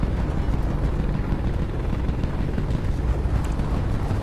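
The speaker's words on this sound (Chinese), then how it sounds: "哎，好，飞机过来了。" A helicopter in the video game War Front Line flies overhead, its dense, steady rotor and engine rumble droning continuously and fairly loud with no talk.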